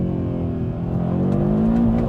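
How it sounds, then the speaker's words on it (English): A 2025 Audi RS3's turbocharged five-cylinder engine revs loud and close, a dense growl climbing steadily in pitch over two seconds. "Listen to the sound of this engine."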